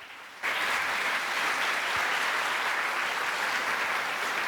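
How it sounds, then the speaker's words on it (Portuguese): Audience applause at a tax conference greets a professor taking the stage, starting abruptly after a quiet moment and holding as a steady, dense wash of clapping for several seconds. "Seja bem-vindo, professor, uma salva de palmas."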